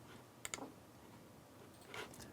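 A few light mouse clicks come while a file is saved in photo editing software, two quick taps close together and then a faint tap later, all against quiet room background.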